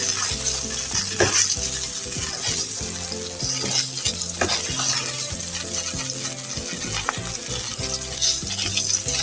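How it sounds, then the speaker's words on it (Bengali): Ripe red chili peppers sizzle in hot oil in a home kitchen, a loud, steady crackling fry with faint stirring over a continuous tonal background. "মরিচগুলো আমি ভালো করে একটু ভেজে নেব।"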